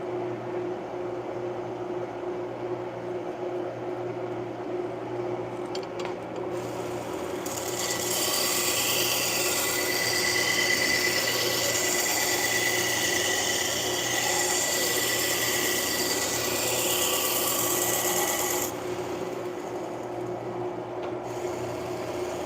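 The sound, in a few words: knife blade sharpened on heavy-grit belt sharpener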